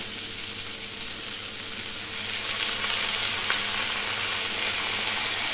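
Spinach sizzles and crackles steadily in hot oil in a pan as a ginger-cumin paste is stirred in for a Bengali prawn and spinach dish, a close, even frying hiss throughout with no talking.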